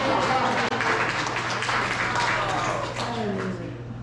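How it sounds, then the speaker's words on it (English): A small group claps together for Steve at an informal coffee chat, with a steady wash of hand claps mixed with voices talking over them. "let's clap for Steve."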